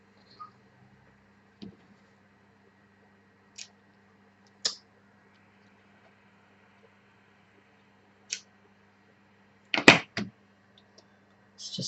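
Sparse, sharp snips of scissors cutting lace at irregular intervals in a quiet room, with a faint steady hum underneath.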